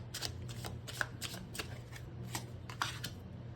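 Tarot cards are shuffled by hand in a quiet room, a series of quick riffling bursts and soft slaps in an uneven rhythm, close and fairly faint, with no talking.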